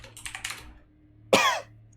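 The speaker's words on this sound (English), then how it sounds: "Thank you for coughing right in the microphone." A single sharp cough lands right into the microphone, loud and close, after a few soft keyboard-like taps.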